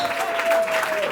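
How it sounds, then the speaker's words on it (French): Brief burst of lively applause from guests at a civil wedding ceremony in Gabon, close and dense, with a faint voice underneath. "Voilà, des applaudissements pour ça."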